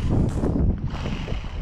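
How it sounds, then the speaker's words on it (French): Tyres of a Kyosho V-One S radio-controlled car converted to a brushless motor, a steady broadband rushing roar close to the microphone, with wind buffeting throughout. "C'est quoi ce bruit? C'est les pneus?"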